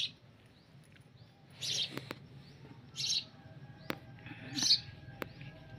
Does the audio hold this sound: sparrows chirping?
yes